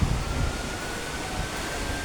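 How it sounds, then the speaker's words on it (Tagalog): Steady rushing wind buffets the microphone with a low rumble and broadband hiss throughout, no voices. "Malakas yung hangin dito."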